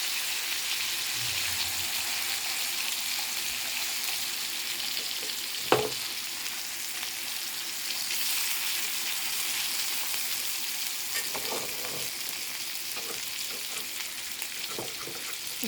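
Fish frying in a pan until golden brown: a steady, close sizzle of hot oil runs throughout, broken by a few brief knocks and scrapes of a utensil, with no talk.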